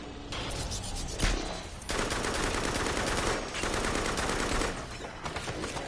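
Rapid automatic gunfire from a weapon in the VR shooter Farpoint, loud sustained bursts of machine-gun fire with brief pauses between volleys.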